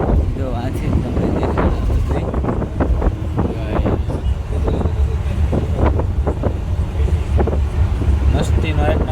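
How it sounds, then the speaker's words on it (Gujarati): Wind rushes steadily through an open vehicle window, a continuous low buffeting roar with a person talking over it throughout. "મસ્તીનો 1 નંબર બારીથી પવન આવે"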